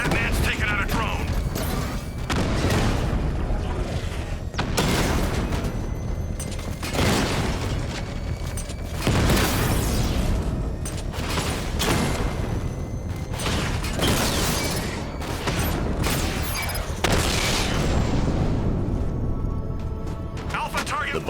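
Repeated booming explosions and mechanical crashes rumble loudly as Batman takes out a drone in the video game Batman: Arkham Knight, with game voices speaking over the blasts.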